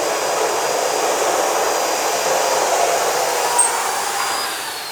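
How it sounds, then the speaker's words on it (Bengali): Nuts are welded onto the frame of a soundproof oxygen plant canopy box with a loud, steady, unbroken hissing arc, close by and alone without voices. "আমি নাটগুলো ওয়াল্ডিং করে দিচ্ছি"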